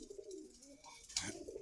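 Pigeons cooing softly at a bird market in Rampura Meradia Bazar, Dhaka, a few low rolling coos close by with a brief rustle near the end, no talk.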